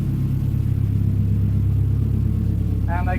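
A rear-wheel-drive Saab 9-5 Aero with a freshly built engine idles on its first startup inside a garage, giving a steady, close, low rumble with no change in revs.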